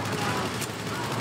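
Machine gun fire in the Battlefield V campaign mission The Last Tiger, a dense, sustained burst of rapid gunfire with battle noise, mixed with voices speaking.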